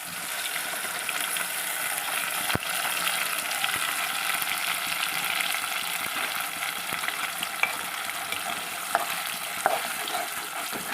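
Spices and softened tomatoes frying in oil for a chicken sherva, a continuous close sizzle with scattered stirring clicks and spoon taps against the pan.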